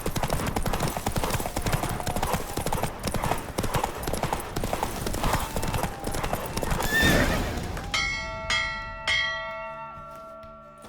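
A horse in The Witcher 3 gallops hard with rapid, continuous hoofbeats. A loud neigh follows, then the hooves stop and church bells ring out clearly and decay.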